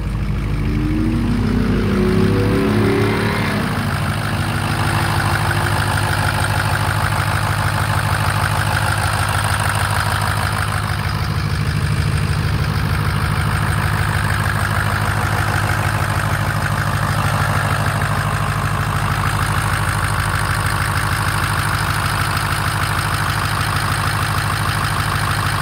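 A Ford 6.0 Powerstroke diesel with a failed head gasket idling steadily for a long stretch, a loud, continuous low rumble with an even mechanical chatter and no pauses.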